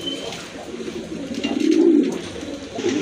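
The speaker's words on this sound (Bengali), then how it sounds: "আরেক জোড়া কবুতর আছে এটা হচ্ছে আপনার ম্যাকপাই পোটার অনেক বড় সাইজের" Magpie pouter pigeons, a large-sized breed, coo in low, throaty rolling calls that swell to a louder peak midway, heard close and alone.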